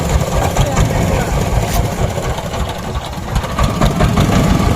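A country river boat's motor chugs close and loud as it pulls away for the far bank, a rough steady throb with a knocking pulse, voices talking over it.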